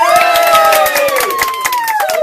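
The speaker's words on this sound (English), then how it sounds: "we need to have another round of applause" Live audience cheering and applauding for the vocal group The Overtones, dense crowd noise with shouts and whistles, loud and continuous throughout.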